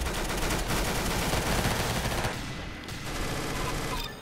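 Rapid, continuous automatic gunfire in the Roblox game Arsenal, loud and close, with a dense stream of shots that briefly thins before resuming in bursts.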